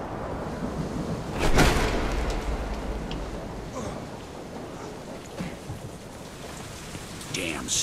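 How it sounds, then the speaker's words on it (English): Steady heavy rain pours in a stormy Deadlight game scene, broken by one loud thunder crack early and a fainter distant rumble later, with no talking. "Damn storm."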